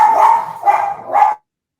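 A dog barks three times in quick, evenly spaced succession, loud and close, followed by silence.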